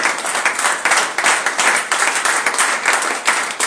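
A church congregation applauds steadily and loudly, with many hands clapping in dense, continuous waves that fill the room.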